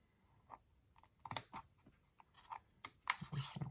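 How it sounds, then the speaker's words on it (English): Scissors snip through the jagged plastic of a CGC graded comic book case in a string of sharp, close clicks and crunches with quiet gaps between cuts. "I'm just going to cut myself as big of a swath here as I can with the scissors."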